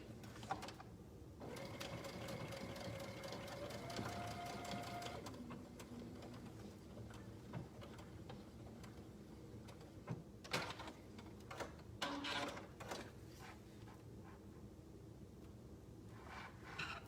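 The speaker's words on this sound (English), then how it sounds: "I'm just going to go ahead and top stitch." A home sewing machine top stitches a zipper tab with a steady mechanical whir, faint and continuous for several seconds, then stops and gives way to scattered handling clicks and knocks.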